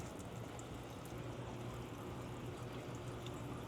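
Coolant water drains steadily out of a Honda K20Z1 engine from a 2006 Acura RSX Type-S, a constant pouring trickle with no breaks and no voices.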